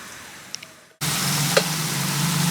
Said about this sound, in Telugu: ఉల్లిపాయలు ఇలా ఫ్రై చేసుకుంటున్నాం కదా